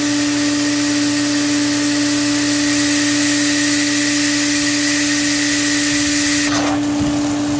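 Pool sand filter pump backwashing, with water shooting out under pressure as a loud, steady rushing hiss over a constant motor hum, ending in a sudden burst and change near the close.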